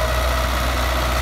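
A Belarus tractor engine, 17 model, running at idle, a loud steady low rumble with constant vibration and no change in pace, heard alone without talk.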